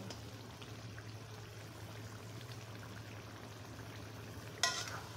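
Stinging catfish (shing) pieces sauté in a pan of oil and spices, a faint, steady frying hiss throughout with one brief utensil clatter near the end and no talking.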